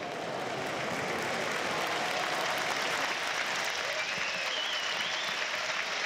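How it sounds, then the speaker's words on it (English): Sunderland fans inside a football stadium applaud during a match against Blackburn Rovers, a broad, steady wash of distant clapping from a large crowd, continuous and fairly faint. "A round of applause you can hear."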